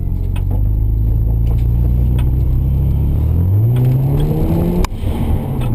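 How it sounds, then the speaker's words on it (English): A black Nissan R32 GT-R's engine revs and rumbles loudly up close, its pitch climbing steadily with a brief flutter near the end like a turbo blow-off valve releasing. "Let's see if we can get some blow off sounds here."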